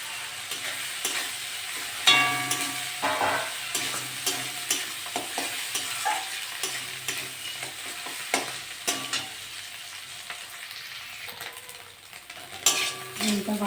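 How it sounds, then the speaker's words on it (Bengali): Fish roe fries in a pan with tomato and onion, giving a soft continuous sizzle broken by frequent spatula scrapes and clinks of a stirring utensil against the pan, close and fairly quiet. "ডিমটা ভাজা হয়ে গেছে।"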